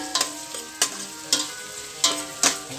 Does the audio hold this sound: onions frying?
yes